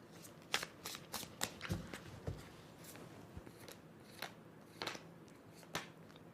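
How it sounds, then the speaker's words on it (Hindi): Tarot cards being shuffled by hand, a run of crisp riffling bursts and soft slaps at close range, irregular in rhythm and with no talk over them. "फिर से शफल करना पड़ेगा"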